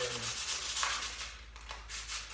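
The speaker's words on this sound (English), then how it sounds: "Now just take a regular piece of sandpaper, just go in" A stained cabinet door is sanded by hand with a regular piece of sandpaper, giving close, rhythmic scratchy rubbing strokes repeated without a break.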